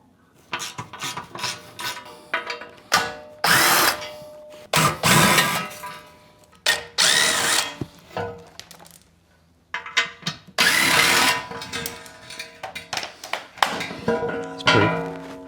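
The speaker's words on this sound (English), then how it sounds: "I'm just going to take a bolt out here and here on both ends." Bolts come off a Jeep Gladiator skid plate with a series of harsh, scraping, rasping tool bursts, some long and some short, separated by brief pauses and heard up close.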